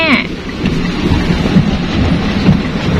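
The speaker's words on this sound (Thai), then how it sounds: "โอ้ ลูกเห็บตกแม่" Hail pelts down during a thunderstorm in a loud, continuous clatter of impacts over a low rumbling roar, sustained for the whole stretch.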